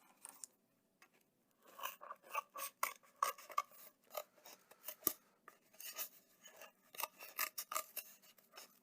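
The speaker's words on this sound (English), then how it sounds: "Cutting out our next little window." Scissors snip out a window in a marble run piece, a close, quiet run of crisp rhythmic cuts and crunching scrapes through the material, with short pauses between bursts.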